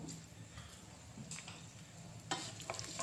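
Red chilli, mustard seeds and cumin sputter in hot oil as a faint, quiet sizzle, with a few soft pops and ticks near the end and no talking.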